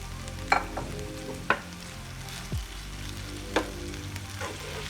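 Potato palya cooking in a pan over a low flame, a continuous soft sizzle broken by a few sharp clinks and scrapes of a stirring spoon, close and without any talk.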